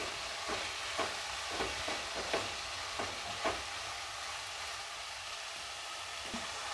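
Crushed ginger and garlic being stirred in a hot frying pan: a steady sizzle runs throughout, broken by soft scraping strokes of the spoon about once a second, close and moderately loud.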